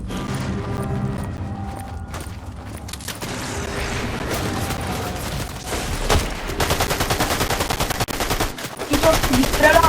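Gunfire in a shooting video game, bursts of automatic shots and rattling fire building toward the end, mixed with game ambience and a low background hum, moderately loud.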